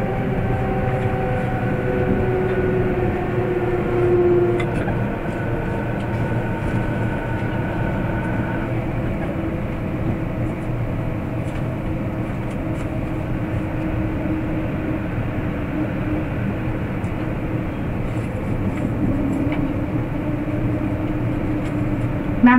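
JR Chuo Line commuter train running between Kunitachi and Tachikawa in Tokyo, heard from inside the car: a steady rumble of wheels and motor throughout, with tonal motor whine rising and falling early on and no talk over it.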